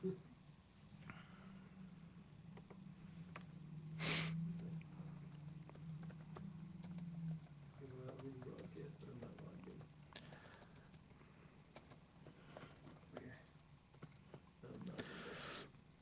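Typing on a computer keyboard during a live online broadcast, with quiet, irregular key clicks running through the stretch under a low steady hum, plus one brief tonal blip near the start.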